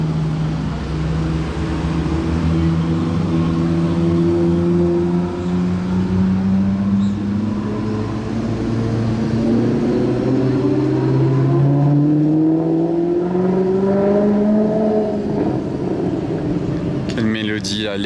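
Sports cars at Top Marques Monaco 2024 rev loudly, their engine notes rising and falling in repeated sweeping pitches, with bystanders' voices briefly audible near the end.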